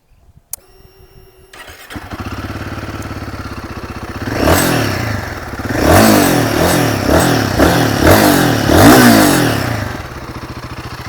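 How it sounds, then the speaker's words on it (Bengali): Royal Enfield Guerrilla 450 Apex motorcycle starts up, then settles into a steady single-cylinder idle with a run of sharp throttle blips, loud and close, before dropping back to idle. "এই বাইকটা এক্সস্টের সাউন্ড সেটা আমি আপনাদেরকে শুনিয়ে দিচ্ছি"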